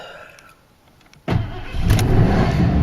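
After a quiet moment, a 1986 Mercury Grand Marquis engine cranks and catches on its first start of the season, then settles into a loud, steady rumble close by.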